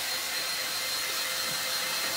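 Hair blower running steadily while drying real hair, a continuous close, airy whoosh with no talking.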